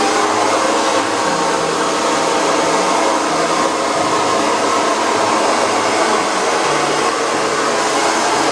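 A hair dryer blows steadily while long natural 3B/3C hair is blown out for a silk press, a loud, continuous close-up roar with a slight wavering hum and no pauses or voices.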